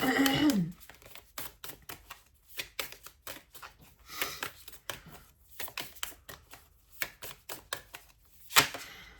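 Tarot cards being shuffled and pulled from a deck, a rapid run of crisp papery flicks and taps close up, irregular and fairly quiet, with a sharper slap near the end.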